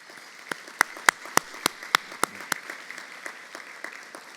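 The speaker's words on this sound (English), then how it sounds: "Let's give them a round of applause," A run of sharp, separate hand claps at an awards luncheon for the Allstate Sugar Bowl and National Football Foundation, about a dozen spaced at a steady, sparse pace and fading to softer claps toward the end.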